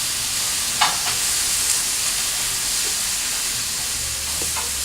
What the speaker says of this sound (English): we are frying this at very high heat